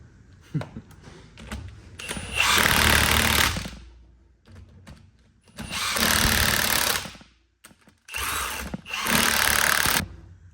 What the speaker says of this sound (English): I've done enough of these with this rattle gun to know where they're at.